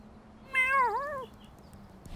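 A cartoon cat gives one clear, drawn-out meow that bends in pitch, loud and close against quiet background, with no speech over it.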